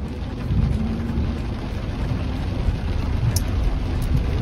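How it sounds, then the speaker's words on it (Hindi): Heavy rain pours on a car driving through Chennai traffic, a dense steady wash of drumming drops with a low rumble underneath, loud and unbroken throughout. "बड़े दिनों बाद अच्छे से जोर से बारिश लगी है"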